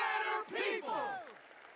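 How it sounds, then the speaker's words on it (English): Crowd of voices cheering and shouting together in Honkai Star Rail, a loud burst of rising and falling calls that tapers off near the end. "Got the crowd going now."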